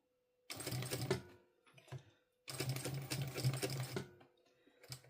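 A sewing machine stitching a bag lining runs in two steady bursts of fast, even whirring, each lasting a second or two, with short clicks and pauses between them, close and clear.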